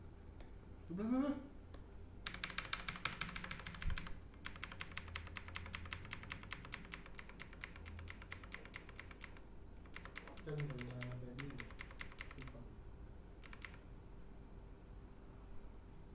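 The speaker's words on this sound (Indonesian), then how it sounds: "Pakai keyboard laptop dong harusnya gue." Fast, continuous typing clatters on a laptop keyboard during a PC overclocking session with an AMD Ryzen 3 3300X and Radeon RX 5600XT, broken by short pauses, with a voice speaking faintly underneath at the start and near the end.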